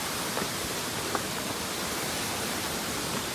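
A waterfall at Phurli Jharan in Odisha gives a steady, unbroken roar of rushing water that fills the whole clip at an even, moderately loud level, with no voices.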